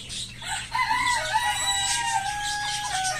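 A backyard rooster crows in a long, clear call, with some clucking around it, at moderate distance in a quiet outdoor setting.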